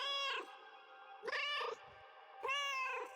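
Three distinct cat meows in a row, each a bright, drawn-out call triggered by the meow button in the game Schrödinger's Cat Burglar, heard clearly and alone with short gaps between them.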